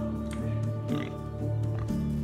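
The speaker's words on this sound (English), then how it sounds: "Another pig." A pig in the medieval farming game Medieval Dynasty grunts and oinks a few times, close and moderately loud, layered over a steady droning game soundtrack.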